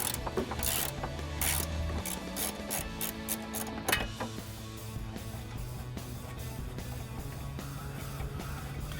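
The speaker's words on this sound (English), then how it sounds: "We're gonna be using the drive, extension, and the 10 millimeter cup." Ratchet drive with an extension and 10 mm socket turning out the radiator screws on a Jeep Wrangler, a close, steady run of rapid metallic clicks with short pauses and no talking.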